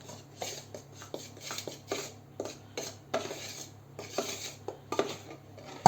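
A spoon stirring flour and baking powder in a bowl for a cake, making close, regular clinking scrapes about twice a second, a dozen or so strokes with no talking.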